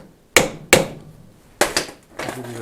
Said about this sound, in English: It's not wise to hit screwdrivers